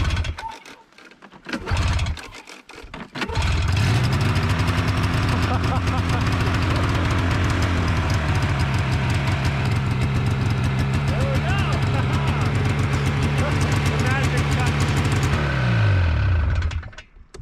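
A frozen two-stroke snowmobile with its choke fully on sputters briefly, then catches and settles into a loud, steady idle that runs for over ten seconds before cutting off.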